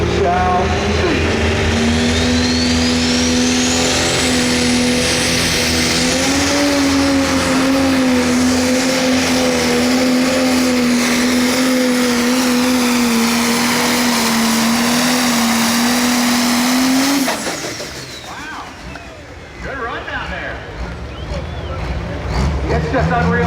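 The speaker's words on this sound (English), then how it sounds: "It's just unreal what these Pro Stock tractors are able to do." Pro Stock tractor engine roaring loud and steady during a tractor pull, holding a strained, slightly wavering pitch for about seventeen seconds before cutting off abruptly, leaving quieter crowd and ambient noise.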